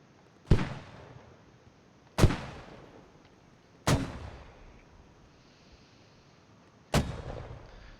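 Four loud, sharp mortar explosions, each one ringing and decaying before the next, spaced about two seconds apart with a longer pause before the last.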